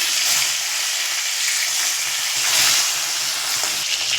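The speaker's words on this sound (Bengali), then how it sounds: "এক পিঠ ভাজা হয়ে গিয়েছে বন্ধুরা" Mrigal fish heads fry in hot oil with a loud, unbroken hissing sizzle close up. It swells briefly partway through, with no voices over it.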